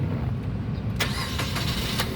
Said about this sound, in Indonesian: berikutnya sekarang kita coba nyalakan mobil ya